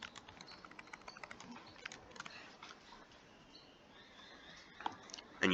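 Keys clicking in a quiet room as f of x is typed into a graphing calculator, a steady run of light, close taps that thins out toward the end and finishes with a sharper press.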